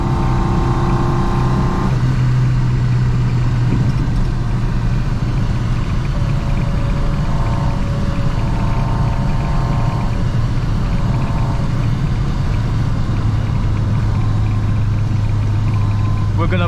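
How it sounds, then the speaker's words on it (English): Carburetors of a 1965 Volvo Amazon 122S roaring at full throttle during a drive, a loud, steady engine drone and intake rumble that holds throughout, with the engine tone shifting partway through and heard from inside the car. "Listen to the carburetors."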